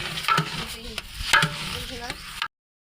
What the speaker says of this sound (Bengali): ভালো করে নাড়া দিয়ে দিচ্ছি।